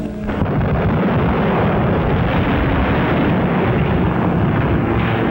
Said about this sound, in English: Flights of unopposed German bombers flew low over the center of Rotterdam and methodically bombed it into a heap of rubble.